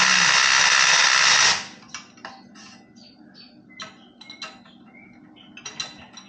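Tool work on the exhaust pipe clamp of a 2022 Triumph Speed Twin: a loud steady mechanical whir for about a second and a half, then scattered close metallic clicks and clinks.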